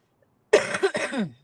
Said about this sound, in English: I got this little bit of cough hanging on